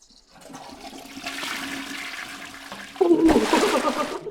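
Toilet flush in the video game The Baby In Yellow: a quiet buildup of running water, then a loud rushing gurgle of the flush kicking in near the end, heard alone without talk.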